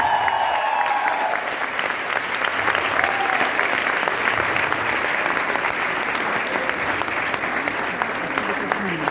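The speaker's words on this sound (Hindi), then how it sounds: "जोरदार तालियां होनी चाहिए उस लड़की के लिए जिसकी वजह से आज मैं यहां खड़ा हूं।" Loud, sustained applause from a large audience at a motivational success-story talk, a dense wash of clapping holding steady for the full stretch with faint crowd murmur underneath.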